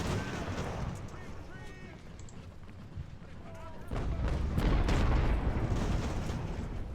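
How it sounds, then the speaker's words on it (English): Artillery booms roll through a naval battle in Ultimate Admiral: Age of Sail. Dense rumbling gunfire grows louder in the second half, and someone talks over it. "Brutal artillery fire."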